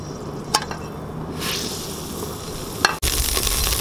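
Garlic sizzles in hot oil in a cooking pot, a steady frying hiss with a couple of sharp stirring clatters and a louder burst of sizzle near the end, with no talk.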